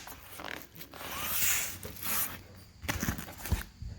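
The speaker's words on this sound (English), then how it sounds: "We're just going to want to undo the Velcro, pull the strap up" Velcro is peeled open on a Jeep soft-top side window, giving quiet ripping and rustling tears with some fabric handling, close and fairly faint, with no talk over it.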